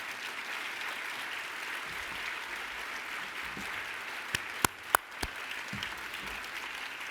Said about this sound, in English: just stand up and get a round of applause